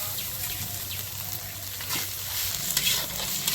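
Masala for chicken kasha, made with chicken feet, liver and gizzard, green chilli paste and salt, fries and sizzles steadily in a pan while being stirred, with soft scraping strokes throughout and no talk.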